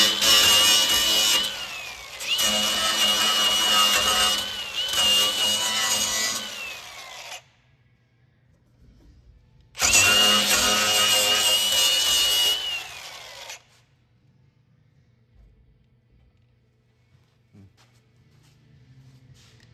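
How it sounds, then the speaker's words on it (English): A power drill grinds into metal drilling out a spot weld on a Jeep, in two loud bursts, the first about seven seconds long with brief dips, then a quiet pause before a shorter second burst. "Usually if you can just kind of drill around and get it to pop off"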